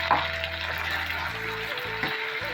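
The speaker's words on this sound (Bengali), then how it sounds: "এখন এখানে মশলা দেবো জিরে বাটা লঙ্কা আদা মশলাটা দিয়ে কিছুক্ষণ কষিয়ে নিতে হবে" A paste of ground cumin, chilli and ginger sautés in a pan with a moderate, close sizzle and stirring, over a steady humming tonal background.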